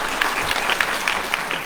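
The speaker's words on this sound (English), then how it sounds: "Can we give all of them a hand of applause?" An audience at a genocide remembrance ceremony on Shark Island, Luderitz, claps steadily in a dense, even burst of applause that cuts off abruptly.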